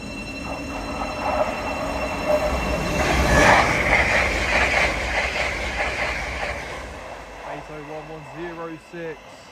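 An LNER Azuma train passes at speed on the East Coast Main Line, King's Cross to York, a loud sustained rumble and wheel roar swelling to a peak then fading, with a voice talking near the end.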